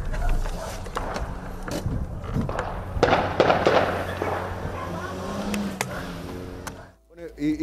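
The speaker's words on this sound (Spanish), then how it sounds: "Dicen que eran tiros al aire, como demostraciones de poder" Gunshots fired into the air from a car arriving at night, heard as a series of sharp, scattered cracks and pops over a rumbling background, ending with a brief lull.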